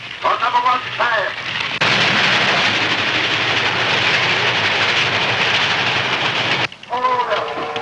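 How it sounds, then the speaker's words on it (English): Train passing on the tracks in an old 1930s film: a loud, sustained broadband rumble and roar lasting about five seconds, with shouting voices just before and after it. "Bound train coming."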